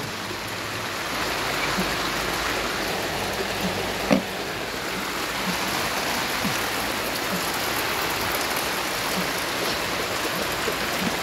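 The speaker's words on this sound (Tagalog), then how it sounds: "biglang bumuhos ang ulan" Heavy rain pours down steadily in a dense, even hiss close by, with one brief knock partway through.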